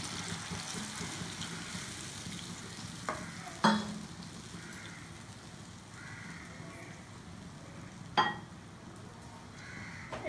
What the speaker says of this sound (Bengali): এবার 1 কাপ মতো জল দিয়ে দেবো।